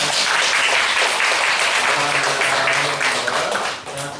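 A church congregation claps steadily in a dense, continuous round of applause that fills the room and tapers off near the end, with no voices standing out.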